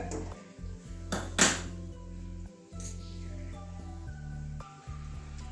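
A wok is set on a gas stove, a few metallic clanks and clinks of cookware over a low steady hum, one sharper knock standing out early.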